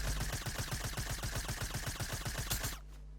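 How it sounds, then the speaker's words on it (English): Silenced SMG in Fortnite firing a rapid, evenly spaced burst of roughly twenty muffled shots over under three seconds, close and loud, ending abruptly. "Silence SMG."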